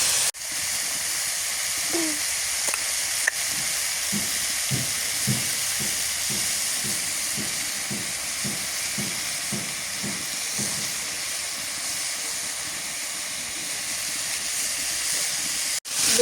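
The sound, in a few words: eggplant being sautéed and stirred in a pan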